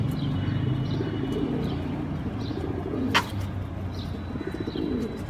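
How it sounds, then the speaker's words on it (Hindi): Domestic fancy pigeons of an original breed, kept for sale, coo in low, steady murmurs close by, with a brief sharp sound partway through. "गारंटी के साथ मियाँ साहब के घर के कबूतर आपको दिखाए जा रहे हैं जी।"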